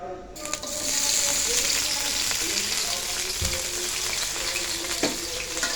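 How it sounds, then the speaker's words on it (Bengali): Chopped onion, garlic and green chilli hit hot oil with a loud, continuous sizzle and crackle, a few utensil knocks punctuating the steady frying hiss. "পরিমাণ মতো তেল দিয়ে দিলাম। তারপরে দিলাম আমরা পেঁয়াজ রসুন কাঁচামরিচ কাটা"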